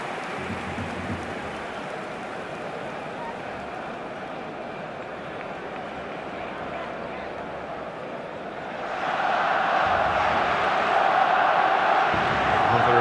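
In eFootball PES 2022, a capacity stadium crowd at Old Trafford, Manchester roars as a broad, steady wash of noise. It swells louder partway through, and a commentator talks over it.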